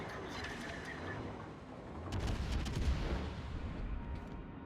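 Guns of the battleship Illinois in World of Warships fire as a low rolling salvo, a dull rumbling volley that swells midway.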